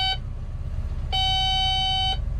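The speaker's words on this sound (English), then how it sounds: "This annoying beep." A shrill electronic beep from a machine sounds briefly, then again as a sustained tone for about a second, over a low rumbling engine.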